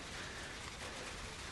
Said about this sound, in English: Bring it on, rain.